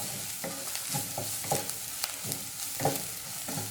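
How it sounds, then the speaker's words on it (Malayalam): Spice powders sautéing in a pan on low flame for a Kerala tapioca and egg masala, a soft steady sizzle with a regular series of scraping stirs, each a short rasp about every half second. "ഈ പൊടികളുടെയൊക്കെ പച്ചമണം മാറുന്ന വരെ നന്നായിട്ടൊന്ന് വഴറ്റിയെടുക്കാം."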